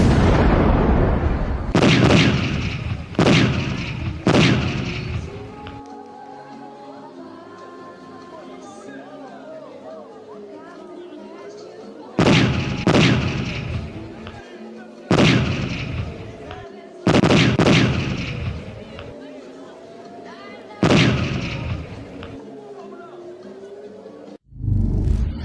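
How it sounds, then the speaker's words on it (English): Fake explosion sound effects dubbed over Iron Dome interception footage: several loud booming blasts, some in quick pairs, with rumbling tails between them, under steady talk and chatter. "that they're adding sound effects, as if you couldn't tell from the really bogus sounds of the sound effects"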